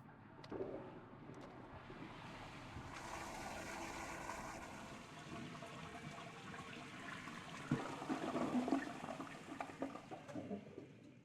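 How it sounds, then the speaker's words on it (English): A toilet flushes in a stall for an unusually long time, a steady rushing and gurgling of water running nonstop for over ten seconds and swelling louder near the end. "That is the fucking longest flush I've ever heard in my life"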